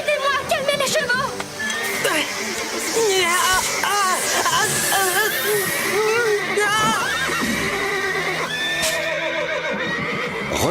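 Several horses whinny and neigh loudly and repeatedly in a stable during a fire in a Western film, with hooves clattering and people shouting and talking over the commotion.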